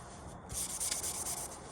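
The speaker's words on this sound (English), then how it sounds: "polish each board now, going in back with the finer sandpaper" Fine sandpaper rubs back and forth over a wooden board for a bonsai accent stand, a steady close scratchy hiss in short continuous strokes.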